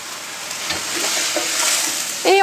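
Salmon head, skin and bones with leek being stirred in a pot, a soft wet sizzle with scraping and shifting pieces, close and steady, ending in a brighter clink or squeak.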